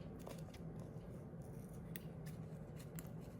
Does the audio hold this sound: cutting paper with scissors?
yes